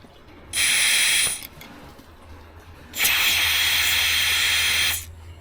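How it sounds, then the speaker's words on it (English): Two steady bursts of aerosol spray hissing into an engine's spark plug hole, each lasting about a second or two, separated by a short quiet pause. "We're just gonna spray some in there."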